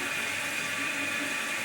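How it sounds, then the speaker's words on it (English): Water from an overfilled toilet tank spills continuously over the overflow tube and drains away, a steady, even trickling hiss with no pauses or voices. "it's flowing over that little tube and draining, and it won't stop"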